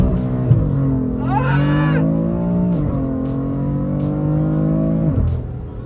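BMW F80 M3 engine revving up and down with a strong, steady harmonic drone, a sharp rise in pitch near the middle, then a long held note that drops away near the end, loud and close with no talk.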